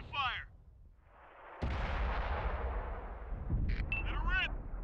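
A tank cannon fires a single round, a sudden loud blast that rolls into a long, heavy rumble, with voices talking before and after it.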